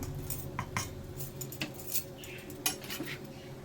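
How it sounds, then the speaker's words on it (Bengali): A spoon clinks and scrapes against a pan while stirring a spice mixture of black cumin, salt and chilli powder frying in a little oil. Irregular metallic taps sound close over a faint sizzle, with no talking. "এটা ভালো করে নাড়িয়ে এই তেলটার এই তেলটার মধ্যে ভাজতে হবে"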